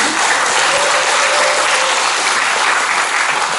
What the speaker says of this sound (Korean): 주최단위한테 다시 한번 큰 박수 부탁드리겠습니다